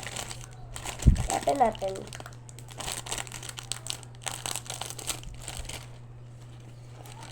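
A package of gifts being unboxed, with plastic wrapping crinkling and rustling in bursts close by, loudest near the start, while someone speaks quietly throughout and a faint steady hum sits underneath.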